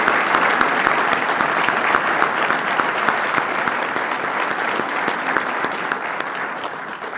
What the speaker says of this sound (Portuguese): eu peço uma salva de palmas para o Miguel